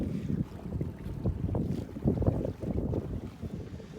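A catamaran under sail in windy weather on flat water, with steady, close wind buffeting across the microphone and the low rush of the hull through the sea, pulsing throughout with no talk.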